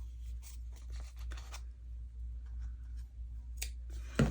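Ordinary craft scissors snip through paper while making Beatrix Potter themed ephemera: a quick run of close, crisp cuts, a pause, then a few more sharp snips, all over a steady low background hum with no talking.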